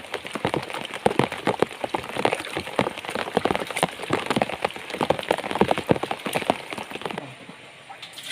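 Steady rain pours at Sempor reservoir during a fishing trip, a dense, continuous patter of drops striking nearby surfaces that eases slightly near the end.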